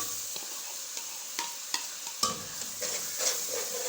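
Stirring in a pan of frying masala as chopped ginger and lemon are added, with a steady soft sizzle and a few light scraping clinks of the spoon throughout, no talking.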